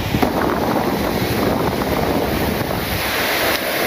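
Ocean surf rolls in at the South Cliff in Varkala, a steady broadband wash of breaking waves with wind rumbling against the microphone, loud and continuous with no voices.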